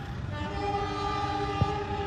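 A train with economy new generation coaches passing at Kalisat station, Indonesia: a steady loud rumble with a sustained tonal horn-like drone held for the whole short stretch and a single clack near the end.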